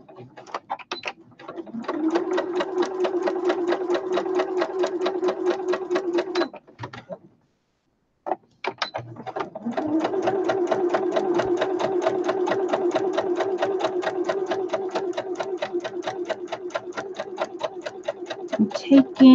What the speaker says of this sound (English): I'm taking my the threads off as I'm sewing this off each of the fabrics, so I don't want to get caught in the machine